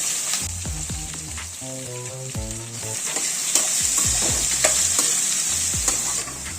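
Mustard seeds, urad and chana dal, green chili and onion frying in hot oil, a continuous loud sizzle with popping crackles and occasional clinks of a stirring utensil, with no voices.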